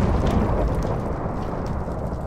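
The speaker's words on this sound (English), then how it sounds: "I think the lightning strikes all the different pillars and sets them all on fire." In Minecraft, lightning strikes ritual pillars with a loud, rolling roar and crackle, like thunder over heavy rain. The roar fades slightly over a couple of seconds. No voices.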